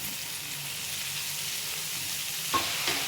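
Spring onions frying and being stirred in a pan, a steady close sizzle with a couple of soft stirring knocks of the utensil near the end, no voices.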